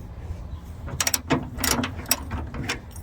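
A ratchet wrench on a 13 mm bolt, loosening a battery bracket on a Chevy truck, gives quick rapid clicking in short bursts, close up and moderately loud.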